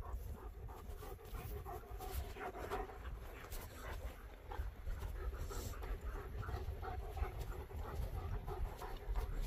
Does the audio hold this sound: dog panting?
yes